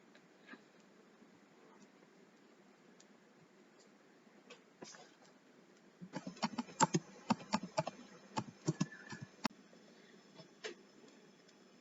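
Typing on a computer keyboard while adding text in Microsoft Whiteboard: after a few isolated faint taps, a rapid burst of close, crisp keystrokes runs for about four seconds, then trails off into scattered clicks.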